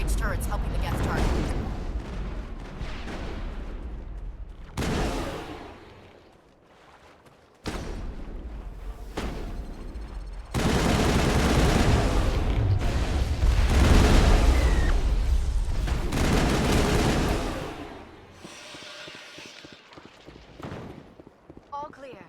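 Crossfire rages in the Mass Effect video game: sustained bursts of gunfire and heavy impacts, loud and dense for long stretches and breaking off into brief lulls, with voices talking over parts of it.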